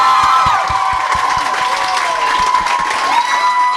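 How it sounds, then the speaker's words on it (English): A fan event audience applauds and cheers loudly at the close of a Q&A panel for a Supernatural parody, with steady clapping and whoops filling the room, and a few voices calling out over the crowd. "But just a big round of applause to these guys."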